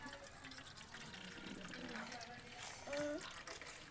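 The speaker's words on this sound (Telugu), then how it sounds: "నీళ్ళు పోసుకుందాం" Water pours steadily during a children's pretend cooking game with toy dishes, the splashing steady and close while young voices talk over it.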